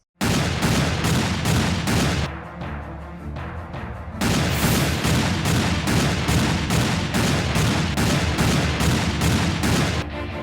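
Rapid bursts of gunfire ring out in an Italian indie film scene, a loud close volley of repeated shots that pauses briefly before another long, evenly paced run of shots.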